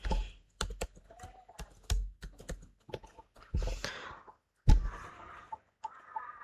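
Typing on a computer keyboard while entering an Excel formula, a close series of sharp irregular key clicks and taps, with soft pauses between bursts.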